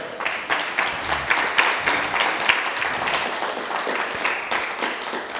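Applause from a church congregation during a Bible study class, steady clapping that swells and dips for several seconds with a faint voice underneath, moderately loud and fairly close.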